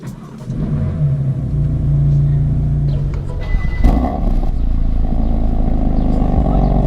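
A BMW F82 M4 engine fires up and settles into a rumbling idle, close and loud, with a brief rising rev partway through and no talking.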